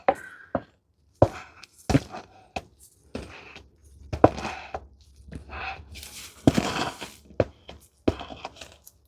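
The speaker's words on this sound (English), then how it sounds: "Scrape all this off. Probably just need to scrape my cup." Spatula scraping and tapping against a cup while building a custom paper towel and utensils tray, irregular short scrapes and knocks close up, one longer rasping scrape near the end, no talk.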